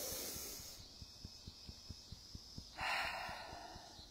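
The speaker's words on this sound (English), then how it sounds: "deep breath." A deep breath: a long airy inhale, then a pause with faint rhythmic ticking underneath, followed by a breathy exhale, close and quiet.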